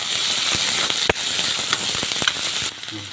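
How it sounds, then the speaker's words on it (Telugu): Green fenugreek leaves frying in hot oil for an egg curry, a continuous loud sizzle broken by sharp scrapes and taps of a spoon against the pan, no talking. "గ్రీన్ మేతి వేసినప్పుడు ఖచ్చితంగా దాన్ని ఆయిల్లో మంచి ఫ్రై చేసుకోవాలి"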